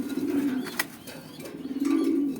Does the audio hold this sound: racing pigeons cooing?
yes